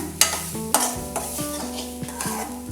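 Grated coconut being stirred and roasted in a heavy-bottomed pan for pumpkin and yam erissery: close scraping strokes with two sharp spoon clicks over a low, steady sizzle, with no talking.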